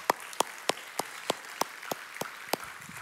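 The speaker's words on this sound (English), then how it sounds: "Well, we can clap for that." Sparse, slow claps from a small group, about ten distinct sharp hand claps spaced evenly across the moment, fairly close and isolated against a quiet background.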